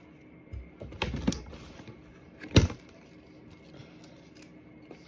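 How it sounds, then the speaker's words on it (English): Knife cutting spinach on a cutting board, a few close crisp chops and rustles with one louder thud near the middle, otherwise quiet. "I'm going to cut up some spinach"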